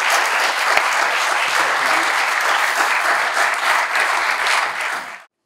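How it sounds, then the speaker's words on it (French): An audience applauds its guests at the close of a talk, dense, loud, even clapping from a large crowd that carries on for about five seconds and then cuts off abruptly. "Et je voudrais qu'on remercie nos invités en les applaudissant."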